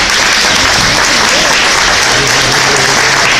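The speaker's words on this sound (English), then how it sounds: "let us give you the school board members a round of applause" A large audience gives loud, continuous applause for school board members and elected officials, a dense steady wash of clapping filling the whole stretch.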